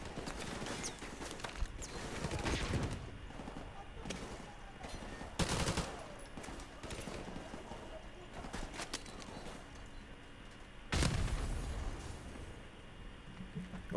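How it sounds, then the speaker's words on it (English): A flashbang grenade thrown in a first-person shooter game goes off amid scattered gunfire, several sharp bangs breaking through a busy, loud battle mix, the heaviest burst near the end. "throw a flashbang."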